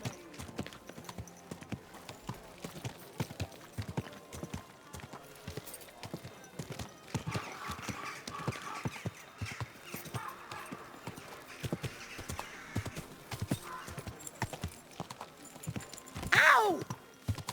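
Horse hooves trot along in Kingdom Come: Deliverance II, a steady clip-clop of moderate loudness throughout, with a short whinny near the end.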